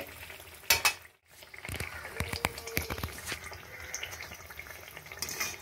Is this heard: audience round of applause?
no